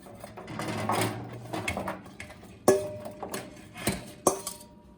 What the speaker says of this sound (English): So now I'm going to place my sweet potato wedges on the preheated baking sheet.